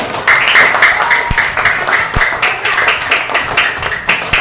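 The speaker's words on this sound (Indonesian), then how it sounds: "Tepuk tangan dulu." A classroom of students claps hands together in a steady, fairly loud patter of many quick claps, with a couple of sharper thumps, lasting through the whole stretch.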